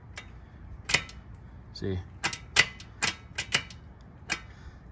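Shifter lever on a 1975 Harley-Davidson SX250 being pushed up and down, producing a string of sharp, close mechanical clicks and clacks at irregular intervals, with a brief spoken word in between.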